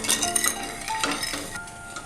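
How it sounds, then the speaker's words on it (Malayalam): Milk, sugar and ash gourd are stirred in a pot for kheer, with a spoon scraping and lightly clinking against the metal pan over a steady broad background hiss. "ഇനി ഇത് ഇളക്കി കൊടുക്കാം"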